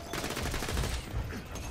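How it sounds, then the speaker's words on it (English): Rapid gunfire from the Borderlands 2 video game, a dense burst of overlapping shots rattling steadily for under two seconds at moderate distance. "I'm hearing more gunshots."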